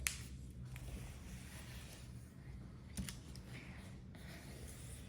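Paper being creased by hand while folding an origami ball, soft rubbing and scraping with a few sharper crinkles, quiet and close, with no talking.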